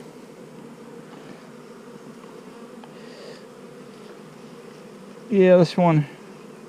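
Honey bees hum in a steady, low drone around a hive in a bee yard, with someone speaking briefly near the end over the buzzing.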